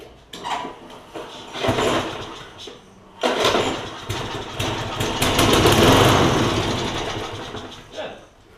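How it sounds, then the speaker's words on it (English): A Briggs and Stratton 6.5hp Quantum engine on a Troy Bilt push mower, primed with starting fluid, cranks in short bursts a few times, then catches and runs roughly at close range. "Let's put some starting fluid in this and see if we can get it to kick over."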